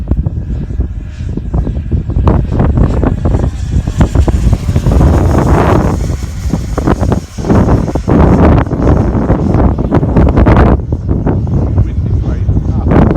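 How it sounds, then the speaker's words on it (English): Strong, gusty wind buffets the microphone on a very windy day at a model aircraft flying field, with loud rumbling surges that rise and fall and a few brief lulls. "Wind is blowing."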